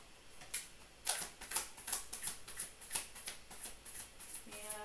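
Tarot cards being shuffled by hand, a rhythmic series of crisp riffling snaps about every half second, close and fairly quiet with no talking.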